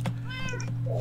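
A cat meows in the Minecraft video game, one clear drawn-out meow heard close and loud over a steady low background hum.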